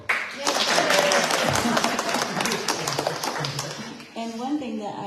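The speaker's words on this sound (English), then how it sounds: "Applause for John." An audience applauds in a church setting after a reverend is introduced. The clapping is dense and loud and is mixed with cheering voices, then fades as a voice begins speaking near the end.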